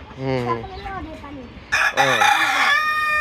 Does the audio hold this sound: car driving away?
no